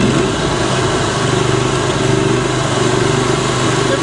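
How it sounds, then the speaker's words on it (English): A Goodall Start All model 610 12-volt starting unit runs with a steady, loud engine drone at a constant idle-like pitch, unbroken throughout. "I'm going to then energize the start unit,"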